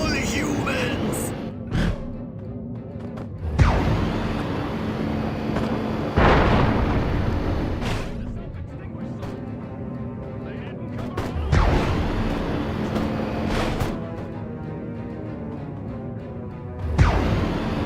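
Heavy weapons fire and booming explosions in the Destroy All Humans alien saucer game, loud blasts bursting every few seconds over rumbling gunfire, with shouted voices in between.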